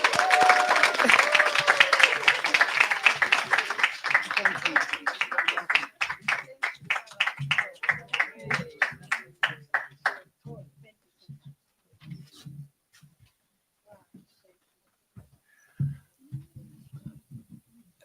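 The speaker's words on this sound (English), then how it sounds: "Let's clap for them." A graduation audience at an entrepreneurship programme ceremony claps loudly and densely for several seconds. The applause then thins into scattered separate claps that fade out, with a few faint voices among them.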